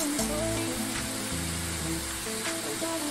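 Ginger paste sizzles and fries steadily in a hot pan for a prawn curry, a continuous close crackle with a faint low hum beneath and no voices.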